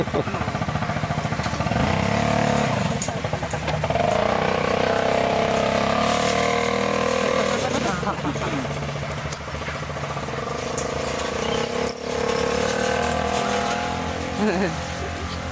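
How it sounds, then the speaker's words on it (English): A scooter with a sidecar drives along a road in Thailand with its engine running. The buzzing motor drone is steady and loud, joined by traffic noise and occasional voices talking nearby. "Kind of a funky sidecar in that scooter."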